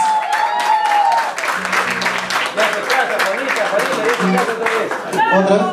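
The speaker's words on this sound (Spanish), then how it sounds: "aplausos, por favor, las palmas" Steady crowd applause and clapping fills the space, with cheering voices mixed in throughout.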